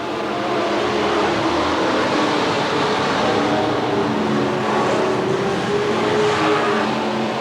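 Stock cars racing through turns 3 and 4 at Willamette Speedway during a 1991 event, a dense, steady engine roar from the pack held loud and continuous throughout, with no talk.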